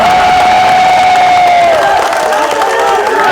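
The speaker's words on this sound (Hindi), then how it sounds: "लोग क्लैपिंग, लोग तालियां बजा रहे हैं।" Dense rally crowd in Haryana cheering and shouting loudly and continuously, a sustained roar with whoops rising over it, close and filling the space without a break.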